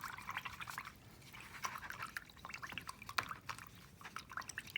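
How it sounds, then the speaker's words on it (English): A paintbrush is swished and rinsed in a container of water while painting tints and shades, giving soft close dripping, trickling and sloshing sounds in irregular bursts. "So just go ahead and rinse that brush off."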